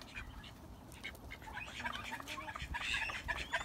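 Showgirl chickens cluck and chatter close by in a backyard flock, irregular short calls overlapping throughout and growing busier toward the end.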